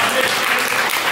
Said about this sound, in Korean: 하나님께 박수를 해봅니다.